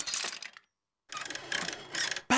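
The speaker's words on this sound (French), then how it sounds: "Papy Pig a réparé le coucou." A cuckoo clock mechanism is worked on in an animated cartoon: bursts of close ratcheting and whirring gear clicks, broken by a short silent pause, then resuming in quick clustered runs.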